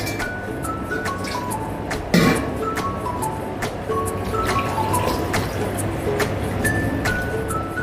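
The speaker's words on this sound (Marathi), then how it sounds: "वरून फक्त आपल्याला गरम पाणी ओतायचं" Hot water is poured into a cup over two spoonfuls of drink powder, heard as close trickling and dripping with rising ringing tones as the cup fills, plus a brief clink partway through.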